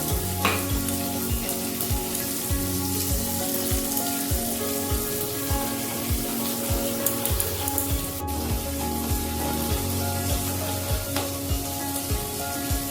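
Chili, coriander and cumin powder frying in a little water in a pan, giving a steady close sizzle with rhythmic scraping stirs throughout.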